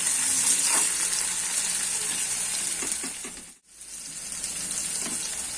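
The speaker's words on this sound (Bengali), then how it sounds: "দিয়ে দিলাম পেঁয়াজ, পেঁয়াজের মধ্যে একটু নুন দিয়ে দিলাম" Onions with a little salt fry in a pan, giving a steady, close hiss and sizzle that dips briefly once, then carries on evenly with no talking.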